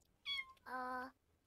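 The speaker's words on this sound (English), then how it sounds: "Why don't you come and pet the little kitty cat?" A cat in The Sims 4 video game gives two short meows in quick succession, clear and close, with no talking over them.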